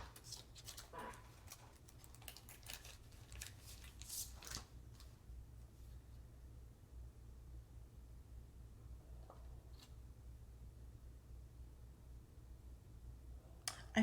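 A package is cut open with a tool during a Cricut heat-embossing holiday card craft session: a few seconds of faint snipping and rustling near the start, then quiet room hum with an occasional soft tick.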